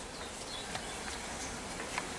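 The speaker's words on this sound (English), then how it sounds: "Just push the bees off this." Honey bees buzz around a honey-filled hive frame during a hive inspection, a steady low-level outdoor drone with faint scattered wing whines, no talk.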